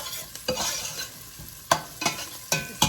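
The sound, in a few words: garlic frying in a pan for tomato sauce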